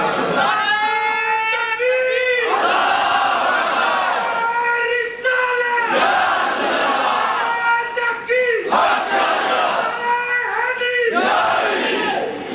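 A large crowd chants slogans loudly in unison at a religious rally in Nadeem Hall, Mirpur, the rhythmic call repeating in strong waves.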